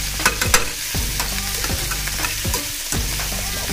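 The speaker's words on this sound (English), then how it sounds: "You want to add a nice generous amount of garlic in here. Probably like 3 or 4 cloves. Mix it in." Minced garlic, three or four cloves, frying in a pan with spinach while being stirred, giving a steady close sizzle with scraping stir strokes and no voices.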